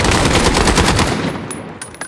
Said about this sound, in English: Gosh, who keeps shooting me?